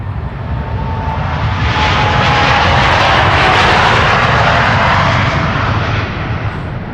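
A jet airliner departs from the Polderbaan runway at Schiphol, its engine roar swelling to a loud peak and then slowly fading as it climbs away.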